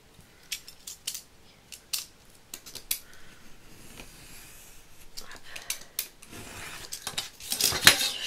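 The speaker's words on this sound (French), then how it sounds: "Je vais recouper un peu ici parce que je l'ai coupé un peu grand du coup." Scissors trim paper for a decorated Christmas box, making a series of sharp, close snips and rustles at an uneven pace, growing busier toward the end.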